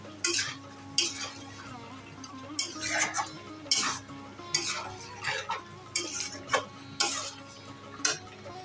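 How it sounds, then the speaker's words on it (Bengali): Spatula scraping and stirring chicken cooked with sour yogurt in a pan for chicken do pyaza, a steady series of rhythmic clinks and scrapes over a soft sizzle. "টক দইটা দিয়ে ভালো করে কষাতে হবে।"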